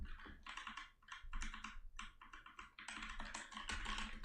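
Rapid clicking of a Redragon K550 mechanical keyboard's keys being pressed, close and fairly loud, with irregular bursts and brief pauses throughout.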